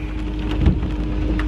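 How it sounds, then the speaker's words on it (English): Heavy rain falling outside, a steady, dense wash of patter heard from indoors, continuous and moderately loud throughout, with no voices. "it's raining outside."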